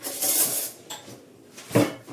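A metal spoon picked up from among kitchen utensils while baking a white chocolate praline yule log, with a jangle of cutlery, a brief pause and then a sharper clink, all close by.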